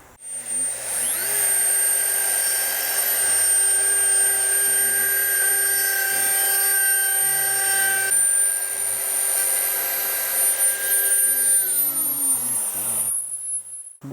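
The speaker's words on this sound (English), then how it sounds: "there we go with the recess route" A router cuts a recess route into a guitar body, a loud sustained high-pitched whine that holds steady for about twelve seconds, then winds down and cuts off near the end, with no talk.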